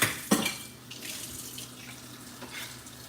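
Cold tap water runs steadily into a kitchen sink while dishes clink and rattle now and then, close by, with a sharp clatter near the start.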